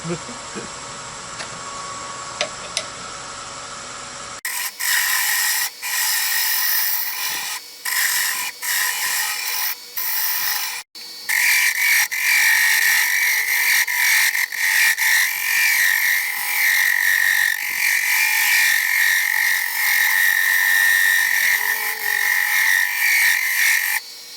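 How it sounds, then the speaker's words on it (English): A half-inch scraper works a wooden darning egg on a lathe, giving a steady close rasping and scraping that runs almost continuously, broken by short pauses and tool contacts, with a brief fainter stretch at the start. "going to use a 1/2-inch scraper."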